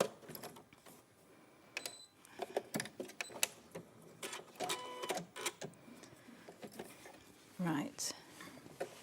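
A sewing machine stitches slowly in short, uneven bursts of mechanical whirring and clicking, heard alongside people talking during a live sewing demonstration.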